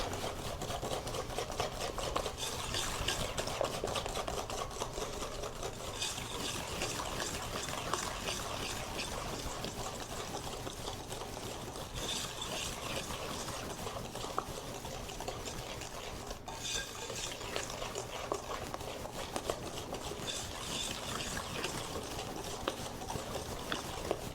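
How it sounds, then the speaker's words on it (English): Brown butter chocolate chip cookie batter is mixed for about thirty seconds, a steady continuous scraping and stirring clatter of utensil against bowl that runs without pause and with no talk. "Let's give it a good mix for 30 seconds."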